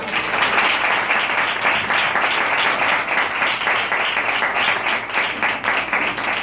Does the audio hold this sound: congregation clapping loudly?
yes